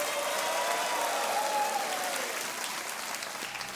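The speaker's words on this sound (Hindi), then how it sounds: "जनता, मैं चाहता हूं कि तालियों के साथ इनका अभिनंदन करता रहे" A studio audience on a television quiz show applauds steadily, a dense, loud wash of clapping that holds throughout and fades slightly toward the end, with no speech over it.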